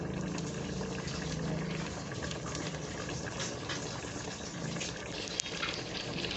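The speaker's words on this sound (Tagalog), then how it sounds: "So, let it boil in 5 minutes." A pot of coconut milk dish boils steadily, a dense continuous bubbling and simmering texture heard close up, with one small click near the end.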